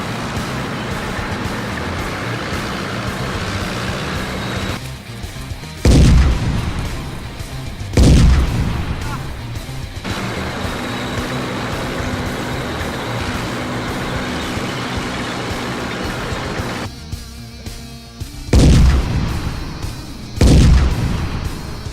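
Tank cannon shots and explosions from the video game World of Tanks: four heavy booming blasts at uneven intervals over a constant rumbling engine drone, with no talking.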